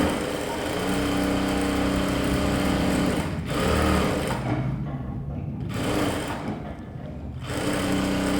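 A sewing machine runs steadily while stitching puff sleeve fabric and lining, with a continuous whirring drone and two brief pauses near the middle.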